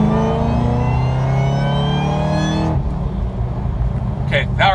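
A Chevrolet ZL1 with a sound tube kit accelerates hard in third gear from a roll, its engine and supercharger whine rising steadily and loud for nearly three seconds before cutting off to a softer rumble with a brief bump near the end.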